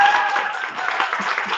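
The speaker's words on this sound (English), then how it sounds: "Can we give him a round of applause?" Applause from a church congregation at its annual meeting, a steady wash of many hands clapping in a room, fairly loud and continuous, with a voice faintly audible beneath it.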